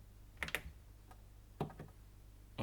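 Buttons pressed on a Behringer RD-8 drum machine: a few soft, close plastic clicks in two small clusters over a quiet background hum.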